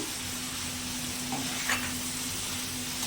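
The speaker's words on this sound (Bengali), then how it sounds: "এবারে ভাজা ভাজা হবে" Taro stolons (kochur loti) fry in a pan of spiced masala, giving a steady soft sizzle with a light stirring scrape partway through.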